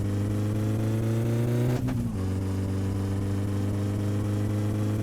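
Engine in the My Summer Car game drones loudly and steadily, briefly dipping around the two-second mark as the nitrous boost kicks in, then resuming a constant strained roar.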